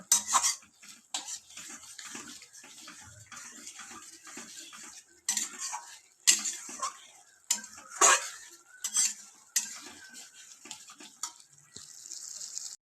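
Spice paste (masala) with salt and sugar being fried and stirred in a pan for a chana dal and potato dish, a spoon scraping and clinking against the metal in irregular bursts with a faint sizzle beneath, close by and without talk.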